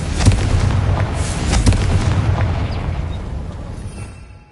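A Confringo fire spell blast in Hogwarts Legacy erupts as a loud booming burst with rumbling low end, followed by a few sharper crackles and a slowly fading roar.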